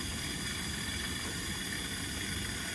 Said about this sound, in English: here we go, guys. Rolling boil